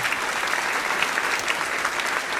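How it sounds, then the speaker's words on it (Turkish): A short, even burst of crowd applause, continuous and fairly loud for about two and a half seconds with no pauses. "bir alkış alalım"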